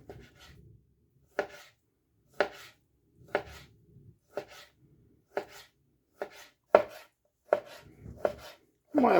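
A knife cuts a roughly 500-gram pork tenderloin into thin slices on a board, giving about a dozen sharp, regular taps close by that grow a little louder toward the end, with no talking.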